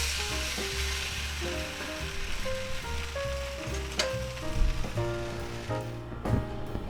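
A cheese omelet with ham sizzles in a cast iron skillet, a continuous close crackling fry with a few clanks and scrapes as it is flipped.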